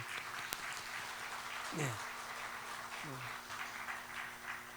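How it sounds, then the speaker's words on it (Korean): A church congregation at a Sunday service applauds to welcome visiting family members: faint, distant clapping running steadily throughout, with a voice speaking briefly over it. "우리 박수하겠습니다."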